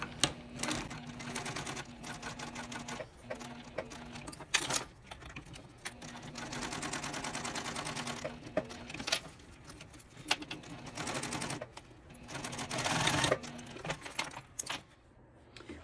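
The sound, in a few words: sewing machine stitching wallet interior panel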